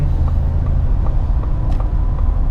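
A 2021 Ford F-150 pickup truck with the 2.7 engine, heard from inside while driving: a steady low engine and road rumble, loud and continuous, with faint intermittent ticks over the drone.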